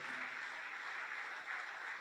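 An audience keeps up continuous clapping at an event honouring a doctor couple on stage, a steady even patter of many hands with no break.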